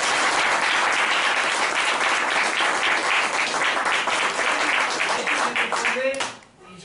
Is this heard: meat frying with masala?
no